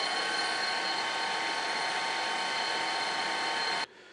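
A lathe spindle motor runs at steady speed with a constant whine and hum, then cuts off abruptly near the end, leaving quieter background.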